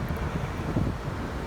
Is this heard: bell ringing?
no